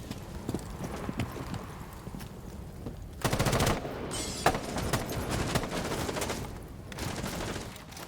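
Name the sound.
gunfire through a wall in the video game Rainbow Six Siege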